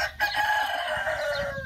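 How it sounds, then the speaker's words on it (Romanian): A rooster crows once in a long, drawn-out call, close and clear, with faint farmyard noise underneath. "aici avem și cocoșul de Cedric, de ușa lui, i-am lăsat un pic liber pe aici"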